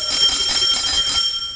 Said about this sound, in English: This has a bell on it